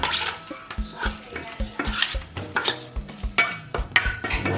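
Ingredients for Thai steamed frog curry are mixed by hand in a bowl, making a steady rhythm of soft thumps and utensil clinks against the bowl, close up with no voices.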